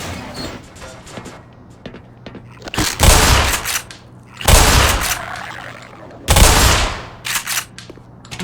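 A pump-action shotgun fires in the game Black Mesa, a remake of Half-Life: three loud, booming blasts a couple of seconds apart, each followed by a short decay, with mechanical clicks and faint game sounds between.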